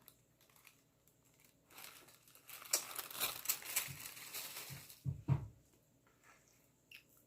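Lilac tissue paper wrapping, tied with a ribbon, crinkles and rustles close up in bursts, quiet at first, then a louder crackling stretch and a couple of sharp crumples near the end, with no talking.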